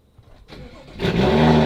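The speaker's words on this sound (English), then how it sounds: "Nice little cold start." A tuned BMW M550 with an N55 engine cold-starts: a brief starter crank, then the engine catches and rises into a loud, close idle flare.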